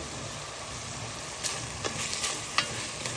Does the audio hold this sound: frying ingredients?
yes